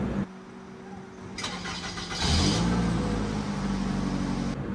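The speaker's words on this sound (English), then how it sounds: "you could turn on your car with just the push of a button" A car engine cranks and catches, then settles into a steady rumbling idle close by.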